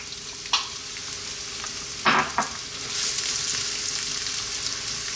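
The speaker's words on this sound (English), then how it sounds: "Going to drop in our onion." Chopped onion dropped into hot olive oil in a skillet, a few sharp clatters followed by a swelling, steady sizzle, close and moderately loud.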